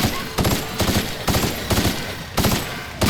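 Repeated bursts of weapon fire in The Outer Worlds during a fight with a Colossus, loud and close, in about five rhythmic volleys with short gaps between them.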